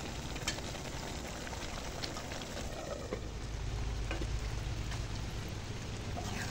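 Chicken sizzles in a pan on low heat while it is sautéed for chicken tehari, giving a steady, close frying hiss with faint stirring scrapes and no voices.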